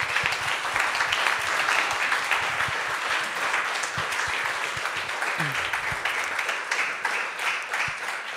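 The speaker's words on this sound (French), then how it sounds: "On peut les applaudir." Applause from a conference audience at a French cultural colloquium, sustained dense clapping from a full hall, steady and fairly loud for over eight seconds with a few scattered louder claps.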